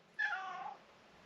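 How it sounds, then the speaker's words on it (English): A cat in a workshop lets out a single clear meow, rising and then fading over about half a second, fairly close against a quiet background. "And the cat agrees with that statement."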